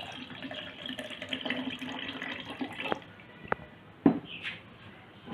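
Tamarind juice for a mojito mocktail pours into a glass with a soft, quiet liquid trickle, followed by a few faint clinks and knocks near the end.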